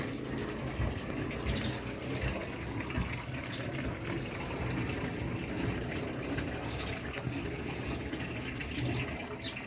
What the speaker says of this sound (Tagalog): Unti-unti nang babawas ang ating tubig sa concrete pan.